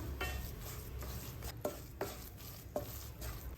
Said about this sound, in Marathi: आता हे सगळं छान मिक्स करायचं